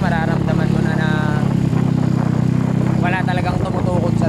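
A 196cc square-engine motorcycle with a 63 mm bore and 63 mm stroke runs continuously on a test ride, its engine drone steady and close while someone talks over it.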